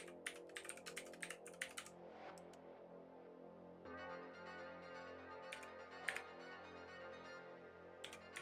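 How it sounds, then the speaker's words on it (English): Quick bursts of keyboard keystrokes during a fiddly login while a game loads, clustered clicks in the first two seconds and scattered taps later over a steady background hum. "And then I fat finger the keyboard and it doesn't work."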